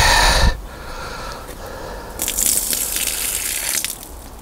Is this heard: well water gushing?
yes